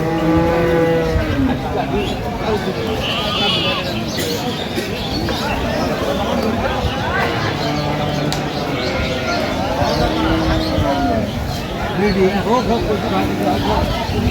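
Sahiwal cows and calves at a rural cattle market give several drawn-out moos through the clip, low and fairly close, amid steady crowd chatter and market din.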